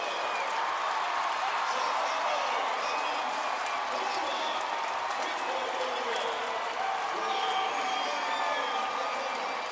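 Hockey arena crowd roaring after the Penguins clinch a seven-game playoff series, a dense, sustained wash of cheers, whoops and scattered clapping filling the space without a break.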